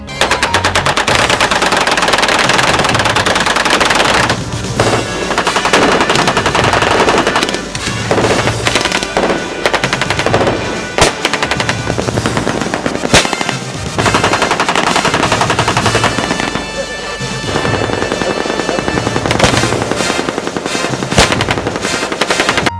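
Sustained machine-gun bursts and rapid gunfire as a loud sound effect for a police encounter, nearly continuous rattling volleys broken by a few short pauses.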